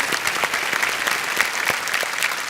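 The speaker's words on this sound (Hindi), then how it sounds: "एक बार फिर तालियां बज जाएं इनके लिए" A TV studio audience on the KBC quiz show applauds a contestant, brisk crowd clapping with distinct sharp hand strikes standing out, steady and fairly close for the whole stretch.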